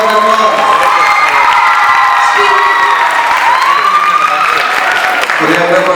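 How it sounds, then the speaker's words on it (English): An audience at an Ugadi festival celebration cheers and claps after a dance performance, a dense loud wash of applause with whoops and children's shouts throughout. "Let's give them a big round of applause."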